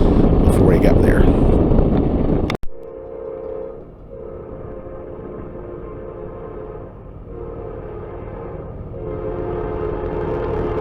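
A Norfolk Southern freight train heading north; a loud rushing burst cuts off abruptly, followed by a steady low rumble of rail cars passing at track speed, with someone talking early on.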